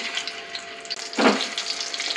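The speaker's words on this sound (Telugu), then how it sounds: "ఇప్పుడు మనం ఆల్రెడీ ఉడికించి ఉంచుకున్నటువంటి బంగాళాదుంపల్ని అందులో వేస్తున్నాను" Pre-boiled potatoes go into hot oil in a kadai for deep frying, giving a steady sizzle with a brief louder burst of crackling near the middle, close and without talk.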